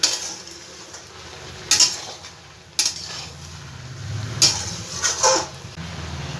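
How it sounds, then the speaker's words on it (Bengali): Mixed vegetables with spices are stirred in a pan, with a spoon scraping and clinking against the metal in a few sharp strokes between quieter stretches of soft shuffling. "একটু আবার নাড়াচাড়া করে দেবো মশলার সাথে"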